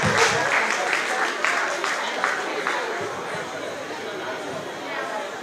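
Audience applause at a 2017 YHC music event as a performer from Adelaide is welcomed, dense clapping mixed with crowd chatter and cheers, loudest at the start and easing into a steady murmur.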